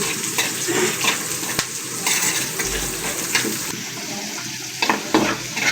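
Food fries in a pan and is stirred repeatedly until browned before water spinach is added, a close, steady sizzle broken by irregular scraping and clattering strokes.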